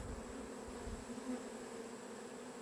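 Bees buzzing around an Apimaye hive, a steady faint droning hum with a constant tone, close by and without talk.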